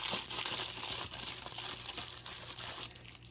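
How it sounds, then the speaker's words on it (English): Plastic packaging being unwrapped from an Iron Studios BDS Gambit collectible statue, with a continuous close crinkling and rustling that comes in bursts for a few seconds and then fades, with no voices. "I'm going to actually unwrap this and get all the noise taken care of"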